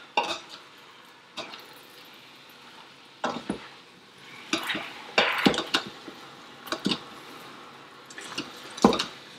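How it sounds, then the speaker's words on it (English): Browning ground beef is stirred in an Instant Pot, sporadic wet squishes and spoon knocks against the pot over a low background sizzle, close and irregular, with no talk. "So I'm just going to stir this up a little bit now that the heat's starting to get really aggressive in the pot."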